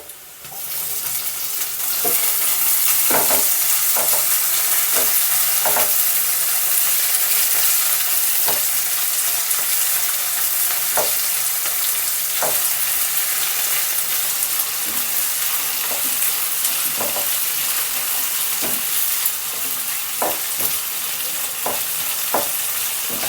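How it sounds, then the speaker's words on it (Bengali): Tomato pieces fry in hot oil for a homemade pasta sauce, giving a steady, loud sizzle with scattered scraping clicks from stirring throughout. "টমেটোটা দিয়ে দিচ্ছি তেলের মধ্যে"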